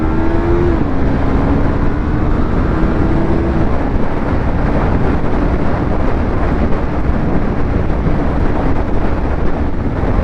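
A Yamaha R3 motorcycle cruises in sixth gear at about 77 mph on a highway. The engine drone is steady and loud and sits under heavy, constant wind roar, with no talking.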